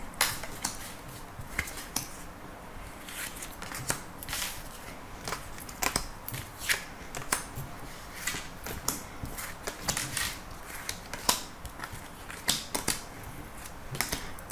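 Tarot cards are handled close up, with a steady run of crisp flicks and soft slaps as the deck is shuffled and cards are drawn and laid down one by one, with no talking.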